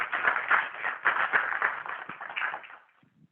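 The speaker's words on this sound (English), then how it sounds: "So please give me a round of applause for these panelists." Applause from a conference audience for a panel at an emerging technology use case summit, a dense patter of many hands sustained for about three seconds before fading out.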